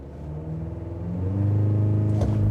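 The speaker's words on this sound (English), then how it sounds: "I actually think that the engine, the way this truck sounds and feels, is pretty good." A 2024 GMC Canyon AT4X AEV truck launches from a standstill, its engine rumbling and then revving up steadily, loud and close, with no voices.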